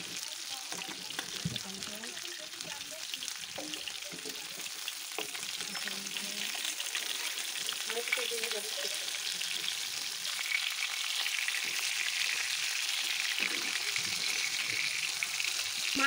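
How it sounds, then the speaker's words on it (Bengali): Rui fish pieces, turned over, frying in oil in a pan, a continuous hissing sizzle with occasional soft clinks, growing slightly louder toward the end, no voices. "মাছগুলো উল্টে নেওয়া হয়ে গেছে, এই পিঠটাও ভাজা করে নেব।"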